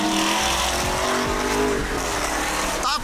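A new car drives hard and slides sideways, with a loud engine roar, tires squealing and skidding, and a voice speaking faintly underneath.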